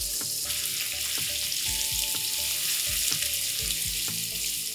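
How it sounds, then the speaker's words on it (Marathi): Sliced onions sauté with asafoetida and cumin in a pot for ivy gourd rice, a loud, dense sizzle running throughout, with rhythmic spatula scrapes and knocks stirring the pan, no voices. "3 उभे चिरलेले कांदे घालून घेणार आहोत. कांद्याचा कलर चेंज होईपर्यंत आपण हे परतून घ्यायचं आहे"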